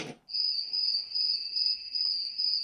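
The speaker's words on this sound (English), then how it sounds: "Then of course we have crickets" Steady, high-pitched cricket chirping from a sunrise alarm clock's white noise machine, a continuous even trill with faint background hiss after a brief soft thump at the start.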